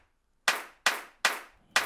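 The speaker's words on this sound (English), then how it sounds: "So the next one sounds like a church clap." A crisp electronic church clap sample in FL Studio, struck four times at an even, moderate pace with short decaying tails, played alone and fairly quiet.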